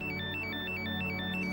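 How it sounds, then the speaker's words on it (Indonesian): A mobile phone rings with a repeating electronic ringtone, a bright two-tone melodic pattern cycling several times over a steady low hum. "Kayaknya handphone kamu bunyi deh."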